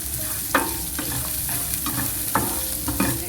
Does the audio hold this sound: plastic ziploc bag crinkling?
no